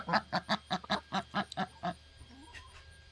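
Ducks in a large coop quack loudly in a fast run of about ten rhythmic, honking calls, close by, then fall quiet with faint softer sounds after.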